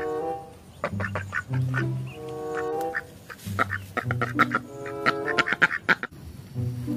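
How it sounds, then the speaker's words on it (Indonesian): Repeated duck quacks in short bursts and clusters, fairly close and loud, with several birds calling over one another throughout. "Widih, bebek teman-teman."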